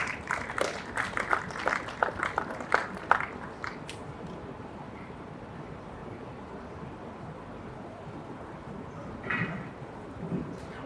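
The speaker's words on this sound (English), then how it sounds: "A round of applause for her." An audience at a corporate event gives the Commissioner a short round of scattered clapping that thins out after about four seconds, leaving a quiet room with faint noise.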